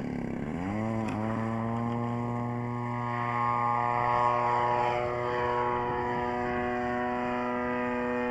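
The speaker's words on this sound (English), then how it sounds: "I'll just give a few revs and try to clear the engine out a little bit" A model aircraft engine at a radio-control glider tow event revs up to clear itself, its pitch dipping and then rising into a steady, loud, buzzing drone that holds for several seconds with no talking.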